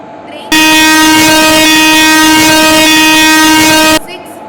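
Punagiri Express at a station blasts a very loud, sustained horn lasting about three and a half seconds, a steady multi-tone blare that cuts in and stops abruptly.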